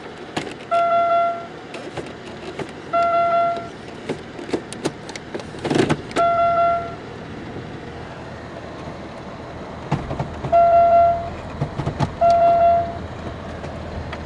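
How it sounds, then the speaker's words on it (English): A steady electronic warning chime in a 1998 Chevy Malibu beeps in repeated pairs of short tones, pausing briefly between groups, over a low engine hum. "Buzzer sound is a little annoying"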